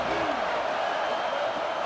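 Steady stadium crowd roar from the College Football 27 video game, a dense continuous wash of many voices throughout, with faint whoops rising briefly above it.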